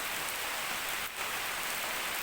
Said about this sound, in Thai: ตอนนี้ฝนกำลังตกเลยครับ